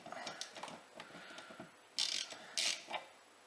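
Ratchet socket wrench clicking while undoing the rear wiper motor nut on a Land Rover Discovery 4, close and fairly quiet, with rapid ratcheting clicks and a few sharper metallic bursts.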